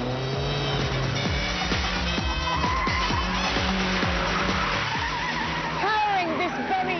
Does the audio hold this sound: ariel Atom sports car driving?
yes